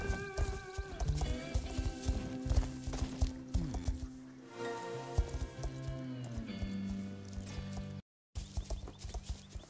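Horses in the video game Star Stable make rhythmic clip-clop hooves and occasional whinnies over layered game music, with a short dropout near the end.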